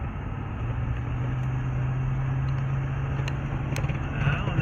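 A 1978 Ford LTD Landau two-door coupé cruising on the road, its engine giving a steady low hum with constant road and wind noise, even and smooth throughout, with no clear rise in pitch.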